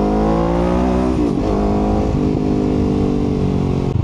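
A 2020 Kawasaki Ninja 650 fitted with a quick shifter accelerates hard. The loud engine note climbs steadily and drops briefly at each quick gear change before rising again, with no voices.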